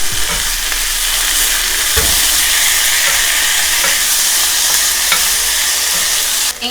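Chopped kimchi sizzles steadily in a hot pan as it is stirred, a loud continuous frying hiss with a few soft scrapes of the utensil, no voices.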